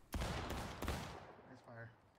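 A musket volley in the War of Rights Civil War game: two or three sharp, loud crashing shots in quick succession, then echoing rumble that fades over about two seconds.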